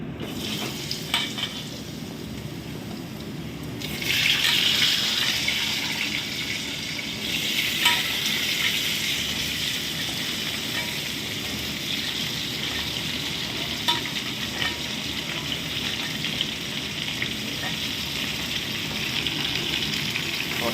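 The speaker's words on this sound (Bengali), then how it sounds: "এবার আমি এর মধ্যে দিয়ে দেবো সেই কেটে ধুয়ে পরিষ্কার করে রাখা সবজিগুলো" Cut, washed vegetables with potato for Bengali shukto drop into hot oil with radhuni tempering, setting off a loud sizzle that settles into steady frying, with occasional scrapes of stirring and no talk.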